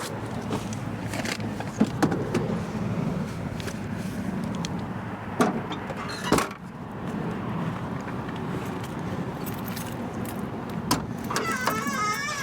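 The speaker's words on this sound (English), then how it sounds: "I want to apologize for the road noise" Continuous road traffic noise from a nearby thoroughfare, a steady roar of passing vehicles close by, with occasional clunks and rattles from handling gear, while a person speaks over it.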